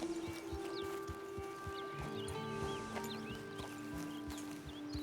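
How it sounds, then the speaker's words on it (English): Horse trotting in Red Dead Redemption 2, a steady clip-clop of hooves at an even rhythm, close and distinct over a faint outdoor bed with a sustained tone and scattered bird calls. "How close I can get to it riding a horse that's trotting."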